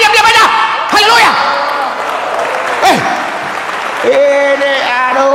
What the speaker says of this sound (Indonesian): Berikan sorak-sorai buat Tuhan, jangan diam-diam aja